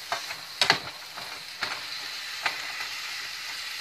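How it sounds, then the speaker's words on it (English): Garlic and zucchini sautéing in a pan, a steady close sizzle broken by several sharp stirring scrapes and clicks, with no talking. "Get the garlic all over the zucchini. And we will let that saute."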